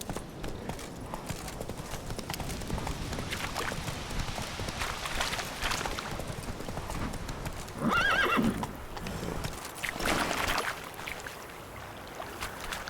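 A horse in the video game The Witcher 3: Wild Hunt gallops with steady hoofbeats throughout and gives a loud neigh partway through, close and clear, with no talk.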